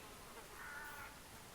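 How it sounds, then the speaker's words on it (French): Flies buzz around dead bodies in the Neverwinter video game, a faint, brief hum that swells for about half a second over steady ambient game noise. "Il y a des mouches ici"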